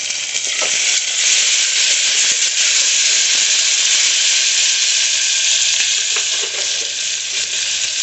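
Onions and tomato fry in a hot pan for a home curry, giving a loud, steady sizzle and hiss broken by soft stirring scrapes throughout.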